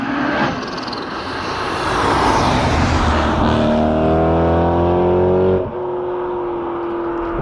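Supercharged BMW M3 sedan engine revving hard while accelerating in first gear, rising loud roar and supercharger whine climbing steadily, then a brief drop at the shift before pulling again, heard from outside the car.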